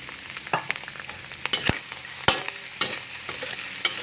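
Tilapia, rice, fried garlic and vegetables are tossed in a pan, with irregular scrapes and clanks of a utensil against the pan over a steady sizzle, close and fairly loud, and no talking.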